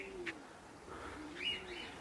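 Pigeons cooing softly in a quiet loft, a faint low coo with a couple of brief chirpy calls over steady background hiss.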